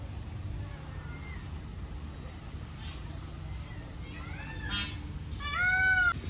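A small cat at a zoo gives a few short meows near the end, over steady background noise with people talking nearby.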